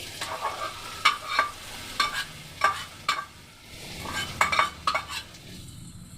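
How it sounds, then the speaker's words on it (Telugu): Tempering poured into a dish and stirred in, a light sizzle under repeated clinks and scrapes of a spoon against the pot in an uneven rhythm, fading off at the end. "ఇక ఇందులో వేసేస్తున్నాను తాలింపు"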